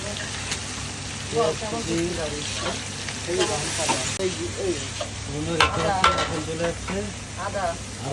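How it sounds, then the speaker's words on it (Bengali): Chopped onions fry with mutton in a pan for a spicy red mutton curry. A crackling sizzle and stirring rattle run under a person talking throughout. "এবার চলে যাচ্ছে পেঁয়াজ কুচি"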